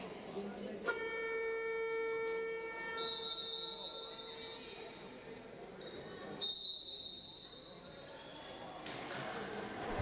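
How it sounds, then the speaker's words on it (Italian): A roller hockey siren sounds during a women's Serie A match between Versilia Hockey Forte and Hockey Valdagno, a sustained tonal blast in a large arena, with a commentator talking over it and a sharper second tone later. "Il suono della sirena, il fischio dell'arbitro per indicare che bisogna riprendere a giocare"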